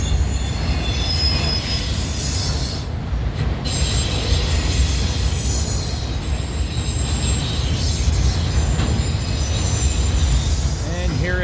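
A Chicago Northwestern freight train of auto rack cars rolls past on the former CNW main line, loud and close, its wheels squealing in steady high-pitched tones over continuous rumbling and clatter.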